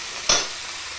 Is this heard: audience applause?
no